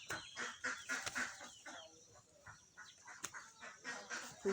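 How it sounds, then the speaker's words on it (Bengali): A small flock of five hens clucking close by in soft, repeated bursts, with brief quieter gaps between calls and no talking. "ওই যে সবসময় পাঁচটা মুরগি একসাথেই থাকে"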